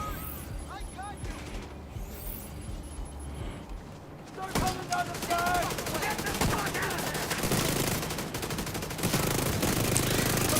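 Sustained heavy turret fire in The Division 2 roars as a continuous loud automatic stream through the second half, after a quieter stretch of distant shots, with a player talking over the action.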